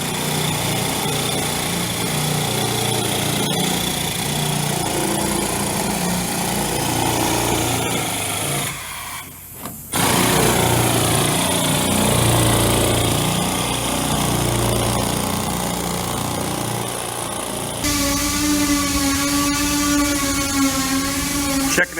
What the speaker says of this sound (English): Sander heavy, huh?